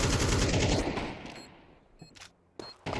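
Counter-Strike 2 gunfire on Dust 2: a dense, loud automatic burst at the start fades away, followed by a few sharp, separate shots near the end.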